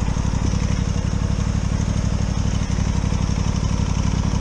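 An Aprilia Tuono 660 Factory motorcycle engine runs steadily close by, with a throbbing, even rumble that holds for the whole stretch.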